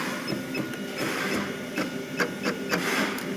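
A pattern sewing machine jogs clamped work, 1-inch webbing layered on top, producing a steady mechanical whir with repeated short clicks and taps, close and fairly loud with no talk.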